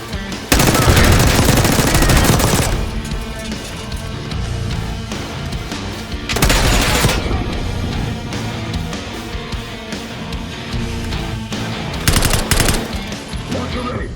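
Heavy, sustained gunfire in the Call of Duty Black Ops 6 video game, with loud bursts of automatic fire that rise and fall across the scene over a dense, rumbling battle mix, with some shouted voices underneath.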